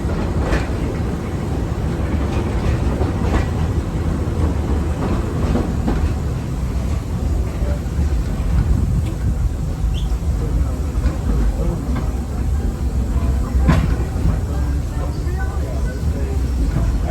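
The Walt Disney World Railroad steam train Lilly Belle rolls along, its steady rumble and rhythmic clickety-clack of wheels on track running loud and continuous, with faint voices in the background.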